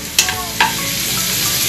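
Onion and garlic sautéing in hot cooking oil for sopas, two quick scraping clatters of a spatula over a constant bright sizzle, close and fairly loud.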